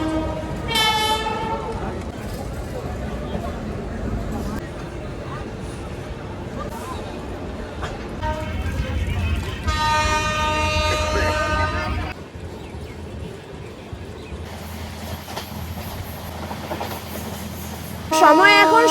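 Balurghat Express at Nabadwip Dham station, heavy rolling rumble and wagon clatter with a long harmonic horn blast early and another sustained horn midway, close and loud, while people talk over the noise.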